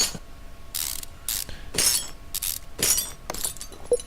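In the Car Mechanic Simulator 2015 video game, a ratchet wrench loosens engine bolts in a series of crisp, rapid clicking bursts, about six in a row with brief gaps between.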